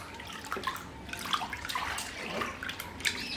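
A hand swishes liquid soap through a tub of water for washing baby toys, making soft, irregular sloshing and splashing close by with no talk.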